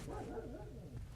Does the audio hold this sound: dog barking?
yes